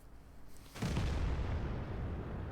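A shell hits a friendly artillery vehicle in World of Tanks with a sudden loud explosive boom, followed by a rumbling roar that lingers and slowly fades after a quiet moment.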